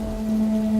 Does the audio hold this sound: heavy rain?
yes